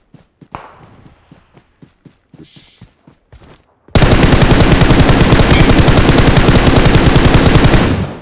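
Rapid gunfire in PUBG Mobile, first scattered single shots with gaps, then a loud, sustained automatic burst that hammers on steadily to the end.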